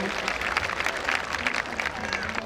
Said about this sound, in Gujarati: એક વખત જોરદાર તાળીઓ સાથે આપણે આ દીકરીને વધાવશું